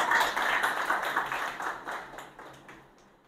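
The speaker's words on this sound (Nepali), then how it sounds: "परमेश्वरलाई जोरदार ताली बजाएर हामी धन्यवाद भन्नेछौँ" Members of a church congregation clap together to give thanks, a rapid crowd of hand claps that fades gradually toward the end.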